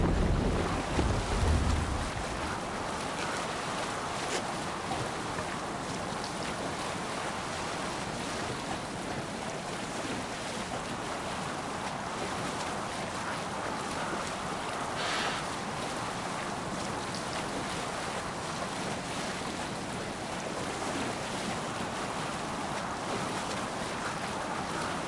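A Viking longship sails across open ocean in Assassin's Creed Valhalla, with a continuous wash of waves and rushing wind at an even, moderate level and no talk.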